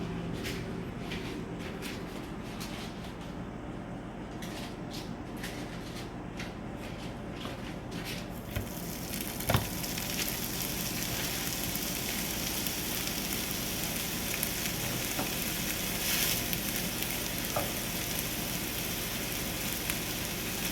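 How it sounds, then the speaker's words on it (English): Hamburger patties placed into a pan on a stove set to medium, a soft rustle giving way partway through to a loud, steady frying sizzle that continues to the end without speech. "we're gonna start cooking the hamburger patties"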